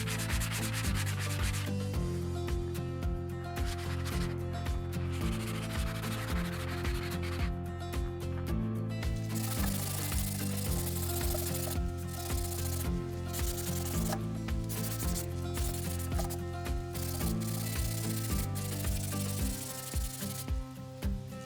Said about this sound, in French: le ponçage va laisser un peu des résidus, hein, qu'on va du coup aspirer